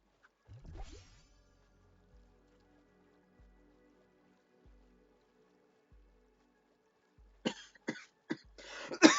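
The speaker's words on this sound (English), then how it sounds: "this cough is awful" A person coughs several times in quick, harsh bursts, close and fairly loud. A long quiet stretch with faint, regular low thumps from a game comes before the coughs.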